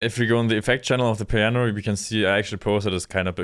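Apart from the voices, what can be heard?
No distinct noise like a dog, phone or traffic.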